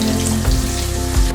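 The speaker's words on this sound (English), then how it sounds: "I'm starting with some chopped onion, and basically I'm just going to cook them." Chopped onion frying in a pan gives a steady sizzle, close and moderately loud, with a low cooking hum beneath and a couple of brief low thumps from stirring or the pan, no talking.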